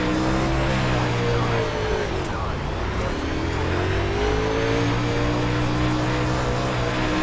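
Close engine note of a dirt race car at Lucas Oil Speedway in iRacing, a continuous drone whose pitch dips and climbs again as the throttle eases and picks back up.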